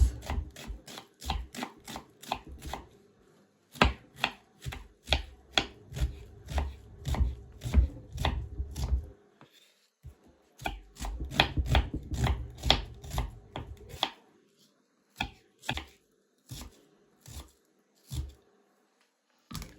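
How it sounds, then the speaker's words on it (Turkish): Rapid, rhythmic knife chopping of onions on a board, bursts of steady taps separated by brief pauses, close up and without speech. "Şimdi soğanlarımızı yemeklik doğrayacağız."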